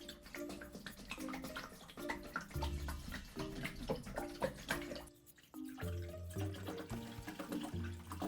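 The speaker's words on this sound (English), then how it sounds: "I can put the water." Water pours and splashes into a moss terrarium with gurgling, dripping and trickling, shifting in pitch as it fills, with a brief pause midway.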